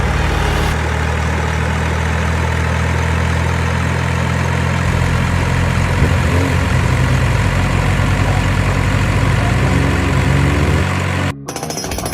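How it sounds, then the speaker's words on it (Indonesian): An underground mining truck engine runs with a loud, steady, heavy rumble and dense mechanical clatter throughout, ending with a brief dropout near the close. "Underground mining truck ukurannya lebih kecil dibanding truk tambang biasa."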